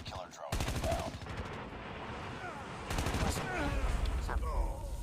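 Rapid bursts of automatic gunfire in the Call of Duty Mobile shooter game, loud and close, two dense volleys with a brief pause between them.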